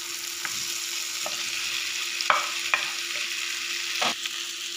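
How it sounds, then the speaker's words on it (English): Potato curry (aloo kurma) with tomato frying in a pan, a spoon stirring and scraping through it with a few sharp clinks against the pan over a continuous soft sizzle, close and fairly quiet. "add the salt also and mix it well"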